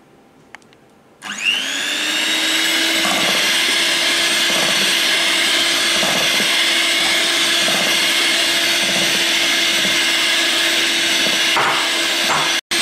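An electric mixer beats cake batter for a vanilla butter cake, switching on after a moment of quiet into a loud, continuous high whine that holds steady, with faint rhythmic bumps, then cuts off abruptly at the end.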